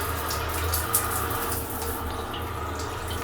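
Water runs steadily from a shower in a tiny micro apartment bathroom, a continuous hissing splash with faint dripping and small spatters, fairly close, with no talking.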